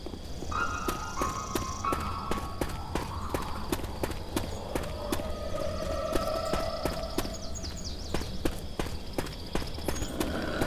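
Horse sounds in the game Left 4 Dead 2: repeated sharp hoof-like clip-clop knocks in an uneven rhythm over a noisy game background, with faint tonal whines drifting through.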